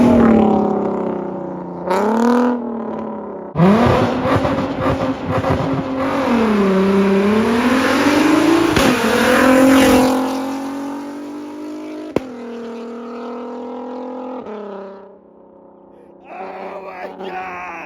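A straight-piped Nissan Skyline R32 with no muffler revs hard and loud, its exhaust swelling and falling through repeated blips over a long stretch, with short pauses and a rasping, booming tone.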